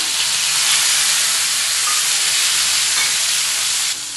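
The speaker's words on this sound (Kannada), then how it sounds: "ಇವಾಗ ಸ್ವಲ್ಪ ಈರುಳ್ಳಿಯನ್ನು ಫ್ರೈ ಆಗಿದೆ ಇವಾಗ ಟೊಮೆಟೊನ ಹಾಕೊಳ್ತಾ ಇದ್ದೀನಿ" Onions and tomato fry in hot oil in a pan, giving a loud, steady, close sizzle that holds evenly throughout and drops off slightly right at the end.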